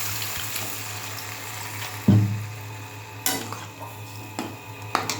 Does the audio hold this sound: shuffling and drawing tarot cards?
no